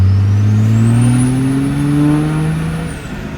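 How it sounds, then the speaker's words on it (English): A Cummins VP44 diesel truck engine pulls at full throttle in third gear, a loud rising drone that climbs steadily in pitch with a faint whine above it, then eases off near the end. "You can kind of see and hear the engine where it kicks in at."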